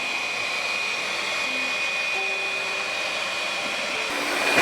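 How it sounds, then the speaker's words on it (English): A robot vacuum cleaner named Eva runs across mixed hard floor and carpet, giving a steady whirring motor drone with a thin high whine. It stays continuous and fairly close, with no talking. "we have an amazing robot vacuum that is handling it all"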